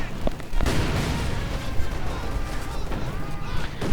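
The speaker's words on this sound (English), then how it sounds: "grenades flying through the air" Grenades burst amid artillery and gunfire in a WWII real-time strategy game, with sharp booms and crashes, several close hits at the start, over a dense rumbling battle din.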